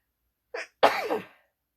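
A single human sneeze close up in a quiet room, a short sharp inhale followed by an explosive burst that trails off, with no talking around it.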